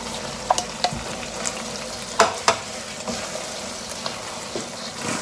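A spoon stirs red kidney beans into sizzling minced meat masala for chilli con carne, with sharp clicks and scrapes against the pan over a steady close frying hiss.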